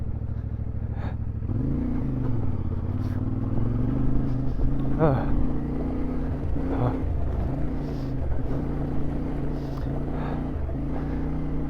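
A motorcycle rides off-road over loose gravel in a dried riverbed in the Atlas Mountains of Morocco. Its engine drones steadily and loudly throughout, with small surges in pitch and a rough rumbling underneath.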